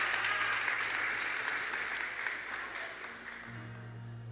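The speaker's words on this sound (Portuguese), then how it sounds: "Você pode aplaudir ao Senhor," A church congregation claps in praise during a Portuguese-language worship service, a steady wash of many hands that continues evenly across the clip at moderate loudness, with a low hum underneath.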